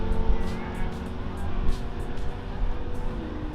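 A Nissan GTR making a quarter-mile drag strip pass gives a steady, loud engine roar that holds through the whole stretch with slight swells, under a busy background of crowd noise at the track.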